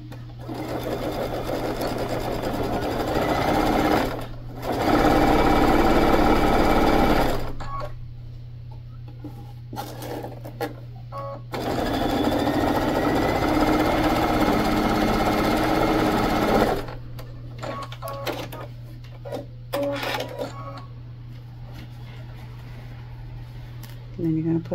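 Sewing machine stitching and backstitching a fabric bag, with several loud bursts of motor whir separated by pauses, over a steady low hum.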